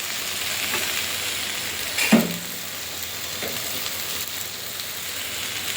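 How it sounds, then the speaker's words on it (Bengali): Potatoes sizzle and fry in hot oil in a home kitchen pan, a steady crackling hiss broken by a brief clatter and a stronger burst of sizzle as onion is tipped in and stirred. "এইবারে আলু ভাজায় পেঁয়াজটা দিয়ে দেবো"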